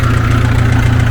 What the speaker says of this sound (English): So just warming up the tractor